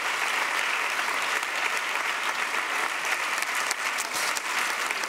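A large audience at a Baden-Württemberg state parliament event breaks into sustained applause, a dense, even wall of clapping lasting the whole stretch without voices.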